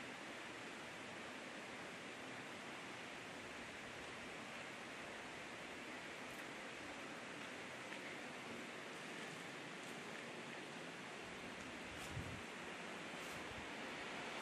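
A waterfall roars at night, a constant broad rushing wash that fills the whole stretch without a pause and with no voices.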